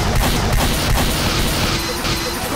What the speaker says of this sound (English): I'm blowing up a lot of stuff right now.